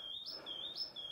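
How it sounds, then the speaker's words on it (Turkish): Small birds chirp in a quiet village on Gökçeada, a repeated high tweeting call sounding several times in quick succession, fairly faint and distant with no talk. "Bu arada kuş seslerini görüyor musunuz?"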